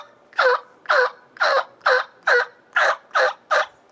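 Eight evenly spaced, loud, close yelps imitate a mature turkey hen on a mouth call, each note a low-pitched, raspy burst with clean silence between.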